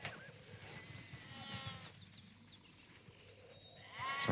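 A herd of goats bleat repeatedly in a rural field, several wavering cries close by, with a louder bleat at the end.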